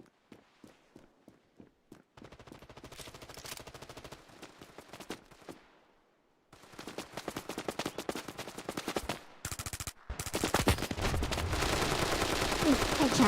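Gunfire from the video game Resident Evil Revelations: sparse single shots at first, then dense rapid volleys and sustained automatic bursts that grow louder and fill the end, with brief gaps of near silence.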